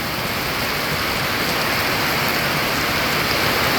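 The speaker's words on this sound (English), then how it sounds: "And it started raining," Heavy rain from a flash rainstorm pours steadily and loudly throughout, a dense continuous hiss of drops with no voices.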